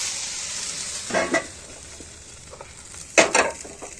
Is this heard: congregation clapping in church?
no